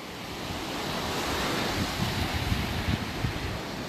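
Surf breaking on the beach at Segur de Calafell, a steady broad wash of waves rolling in with a soft rushing texture and light wind, continuous and fairly close, with no voices.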